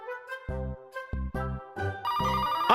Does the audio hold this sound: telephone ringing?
yes